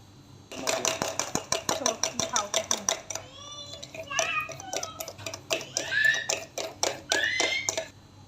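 Rapid, steady clinking as instant coffee mixture is hand-beaten in a cup with a spoon to whip it into foam, a fast metallic tapping rhythm close by with some scraping and squeaky accents.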